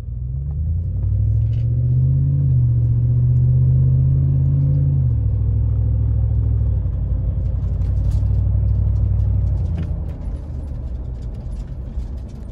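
Fourth-generation Toyota 4Runner V8 with a muffler delete driving along, a deep, steady exhaust rumble heard from inside the vehicle that shifts in pitch as it moves, with no talking.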